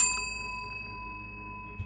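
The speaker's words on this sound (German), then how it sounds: "wir klingeln mal." Doorbell in a horror video game: a single bright ding at the start, followed by a long, clear ringing tone that slowly fades in a quiet room, with no voices.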